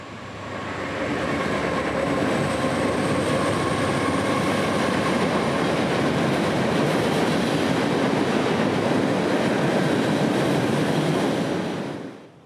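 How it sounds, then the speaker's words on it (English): CSX freight train M544 rolls across an old rusted through-truss bridge over the Little River, a steady, loud rumble with rhythmic wheel clatter and faint squeal that holds for about ten seconds before cutting off. "the speeding M544, who'd now be approaching, crossing the Little River on the old rusted span"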